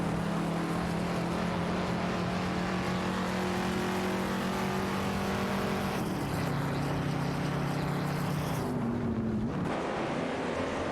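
Race cars in an AI-driven video game race, an Aston Martin Vantage 77 against a Dodge Charger, roar steadily with droning engine tones that shift pitch as they change gear and pass, loud and continuous throughout.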